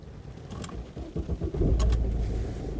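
A Mercedes A-Class engine cranks and fires up, building from mechanical clicks and rattles into a loud, steady idle rumble close by, with no talking.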